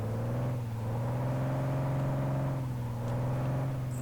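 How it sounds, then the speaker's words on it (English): A truck's engine in Truck & Logistics Simulator holds a steady droning rumble, rising and dipping slightly in pitch as it swings through a handbrake turn, loud and continuous with no voices. "Handbrake turning it."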